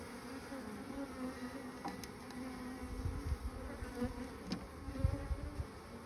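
Steady, soft honeybee buzzing from a hive frame with few bees fills the scene, with a few low rumbling bumps and faint clicks mixed in, no voices.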